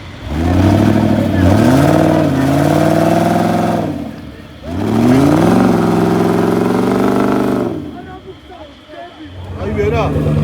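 An off-road trophy-trial car at an outdoor event near Nikortsminda revs loudly and close, its engine climbing and holding in two long strained pulls with a brief drop between, then idling lower.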